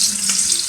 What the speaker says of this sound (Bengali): তেল গরম হয়ে গেছে, এখন দিয়ে দিচ্ছি একটি বড় সাইজের পেঁয়াজ কুচি করে।